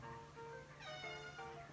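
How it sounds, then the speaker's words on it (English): A cat meows softly indoors in a home kitchen, giving a few drawn-out, tonal calls over a steady low hum, with no talking. "Do you guys hear that? He's meowing."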